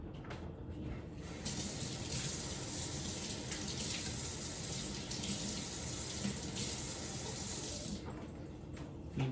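A kitchen tap runs steadily while cookie dough is being mixed, a continuous hissing rush of water that starts after a second and keeps flowing strongly until it cuts off near the end.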